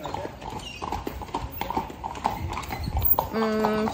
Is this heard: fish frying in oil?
no